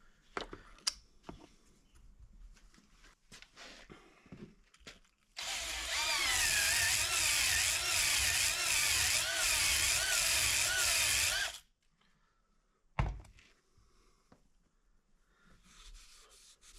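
A drill-driven hone scuffs the Nikasil-plated cylinder wall of a 1998 Suzuki RM125 two-stroke motorcycle, a loud continuous whirring, rasping grind lasting about six seconds, framed by quieter handling clatter and clicks before and after.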